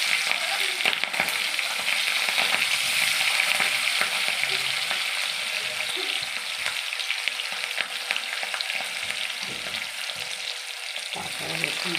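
Sliced onion sizzling and crackling in hot oil left over from frying chilli chicken, a continuous loud frying hiss with occasional stirring scrapes close by, no talking.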